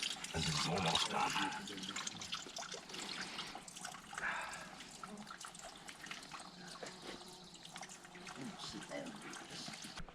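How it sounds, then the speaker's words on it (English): Water trickles softly from a small flowing brook on a Vermont mountain trail near Mt Mansfield, a faint steady babble heard close by, with a person speaking over it. "So I just got some water at that little flowing brook, that little trickle of water"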